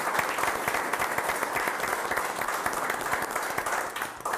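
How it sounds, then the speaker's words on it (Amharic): Warm applause for the winning team at a televised Ethiopian comedy game show: dense, steady clapping from a studio audience that holds at an even level throughout and eases slightly at the very end. "ለአሸናፊዎቹ ለነ ጆኒ ቡድን ሞቅ ያለ ጭብጨባ።"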